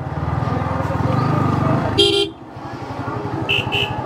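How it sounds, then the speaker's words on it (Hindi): A motorcycle idles and rumbles in a busy crowd on the Ram Mandir corridor in Ayodhya, with one short horn honk midway and two quick toots near the end. "बीच बीच में हॉर्न बजाना पड़ रहा है"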